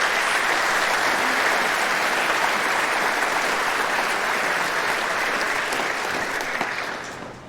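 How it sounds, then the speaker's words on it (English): Sustained applause from an audience at a June 2013 thank-you event, dense steady clapping throughout that tapers off slightly at the end. "A round of applause for"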